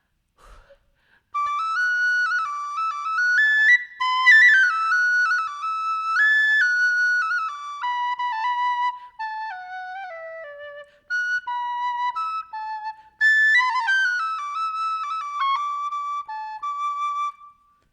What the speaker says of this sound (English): This is a sweetheart penny whistle